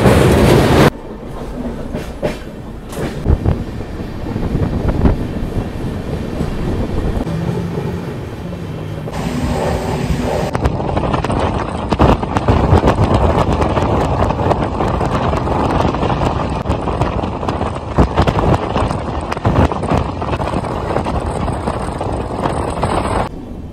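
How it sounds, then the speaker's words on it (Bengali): The Rupashi Bangla Express rolls into Kharagpur Junction with loud, steady rumbling and clickety-clack of wheels over rail joints, heard from on board with wind buffeting the microphone. "আমাদের ট্রেন ঢুকছে খড়গপুর জংশন রেলওয়ে স্টেশন"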